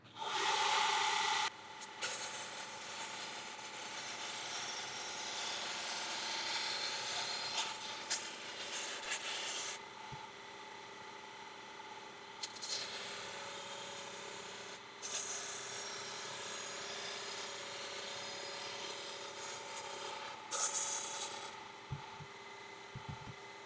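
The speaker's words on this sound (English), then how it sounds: "But now I'm trying to grind down low." Belt grinder sharpening an 18-inch WW2 machete, a steady loud abrasive whine and rasp running in long passes with brief pauses between them, no voices.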